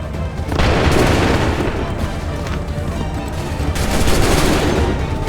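A massed musket volley in the video game Assassin's Creed 3: heavy, booming gunfire that swells into a sustained rolling crackle, eases, then surges again in a second loud wave.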